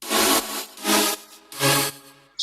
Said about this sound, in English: Also have these chord stabs that in the first drop they go like this